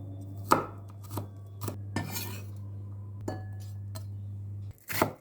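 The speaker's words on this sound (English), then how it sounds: "chop 2 to 3 cloves of garlic" A knife chopping two to three garlic cloves on a cutting board: a handful of crisp, close knocks at uneven intervals over a steady low hum, with no talking.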